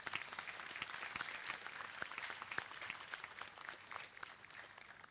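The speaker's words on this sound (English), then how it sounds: "Please give the graduates a round of applause." Steady applause from a sizeable audience at a graduation ceremony, a continuous wash of many hands clapping at moderate volume throughout.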